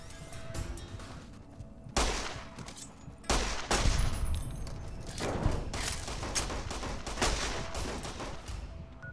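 Rapid gunfire bursts and thudding impacts in the video game Fallout: New Vegas, loud volleys in clusters with brief gaps, continuing steadily throughout.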